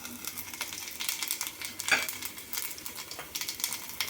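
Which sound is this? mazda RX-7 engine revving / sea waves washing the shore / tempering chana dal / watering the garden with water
tempering chana dal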